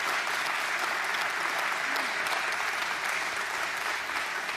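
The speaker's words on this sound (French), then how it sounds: "Ils méritent une bonne main d'applaudissements." A room full of people applauding the prime minister's staff at a public announcement, dense sustained clapping that stays even and fairly loud throughout, with no voice rising above it.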